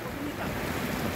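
Floodwater of the Tocoa river in Honduras during Hurricane Eta pours past riverbank homes, a continuous broadband rush with wind buffeting the microphone, fairly loud and steady with no talking.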